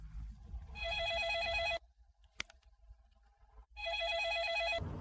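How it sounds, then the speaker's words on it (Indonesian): A telephone rings in two long electronic trilling bursts separated by a quiet pause with a single sharp click, fairly close and with no talking. "teleponmu terus berdering"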